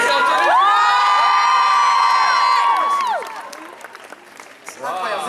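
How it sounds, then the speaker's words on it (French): Crowd cheering loudly with sustained whoops and shouting voices, applause mixed in, fading after a few seconds into quieter murmuring before a brief swell returns. "applaudissements pour Jimmy"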